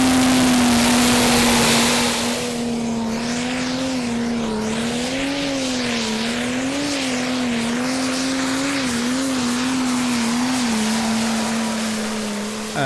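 Pulling tractor Extreme Temptation, driven by William van der Vos, makes a full pull-off final run at a Danish Championship round in Herning, its engine a loud, sustained roar that wavers in pitch throughout, with a brief harsher burst at the start.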